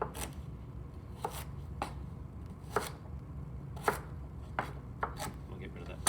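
Ingredients chopped with a knife on a board, a series of sharp, irregular close-up chops spaced roughly a second apart over a low steady background hum, with no voices.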